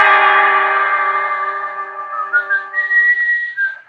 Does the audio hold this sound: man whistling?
yes